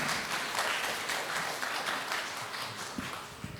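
Audience applauding at a 2023 expert forum on converged medical product safety technology, steady dense clapping filling the room and holding at an even level throughout.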